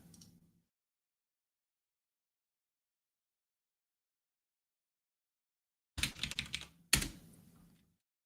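Computer keyboard typing while running a wget command, a short faint tap at the start, then after a long silence two quick loud bursts of key clatter close to the microphone.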